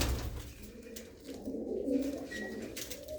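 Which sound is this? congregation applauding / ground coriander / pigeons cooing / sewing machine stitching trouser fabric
pigeons cooing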